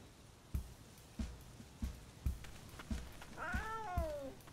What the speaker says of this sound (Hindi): ये एक जंगली बिल्ली है और यही जगह इसका घर है